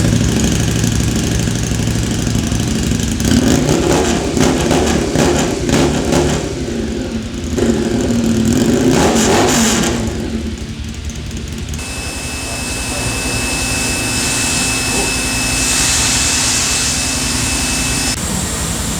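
A Harley-Davidson XG 500 dirt/street tracker project bike with a small fuel leak runs loudly up close, its engine droning steadily with shifts in pitch as it is revved, and a high whine appears late in the run.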